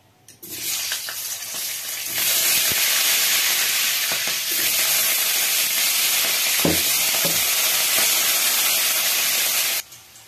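Cut potatoes sizzle loudly in hot oil in a pan after a cumin tempering, a steady broadband frying hiss with a few stirring clatters, running unbroken for about ten seconds with no talk.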